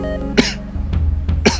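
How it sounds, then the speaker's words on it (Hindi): Two harsh, close coughs about a second apart, over a faint low background hum. "खांसी बहुत है मुझे"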